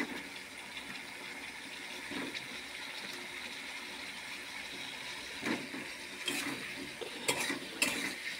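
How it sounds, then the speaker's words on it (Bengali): Potatoes are stirred in a pan of spice paste, giving a soft, steady frying hiss with scraping and a few clinks of a spoon against the pan toward the end; no talking. "আলুগুলো দিয়ে নাড়িয়ে চাড়িয়ে একটু হবে"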